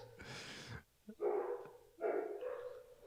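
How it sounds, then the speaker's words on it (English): Dogs bark in three sharp bursts separated by brief gaps, close and fairly loud, with a small yip between the first two barks and no talking. "This whole episode is going to be dogs barking."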